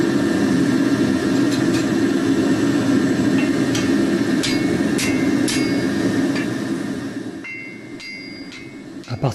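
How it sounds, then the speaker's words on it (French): A Damascus steel billet is being cut and folded at the forge, with metallic ringing strikes and sharp clanks over a loud, steady forge roar that quiets near the end. "je vais maintenant la couper et la replier en deux pour obtenir 42 couches"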